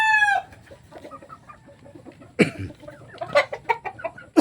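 Chickens and roosters in a small backyard coop, with a rooster's crow cutting off at the start, then scattered clucks and squawks from several birds nearby.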